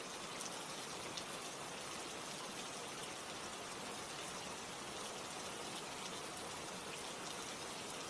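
Steady rain falls continuously, a dense, even hiss of drops with no breaks, alone and without voices.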